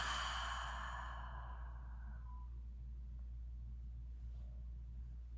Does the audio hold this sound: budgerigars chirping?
no